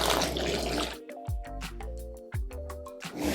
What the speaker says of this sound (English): Let's put our very hot water in there and see what happens.